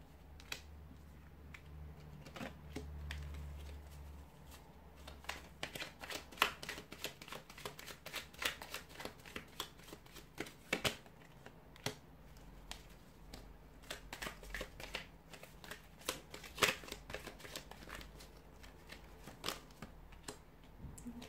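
Tarot cards being shuffled by hand, a long run of soft, quick riffling flicks and taps, faint and close, with no talking.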